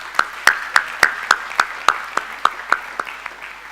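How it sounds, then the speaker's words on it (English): An audience claps at a school graduation ceremony in India, with steady, evenly spaced claps ringing out close and crisp, then gradually fading toward the end. "I think a big round of applause for all of them."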